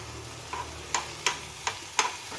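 Ghee sizzling in a pan for carrot halwa, a quiet steady fry broken by five sharp clicks of a spoon against the pan at regular intervals.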